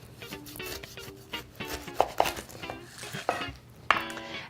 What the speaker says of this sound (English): using a nice sharp knife, you want to cut off the top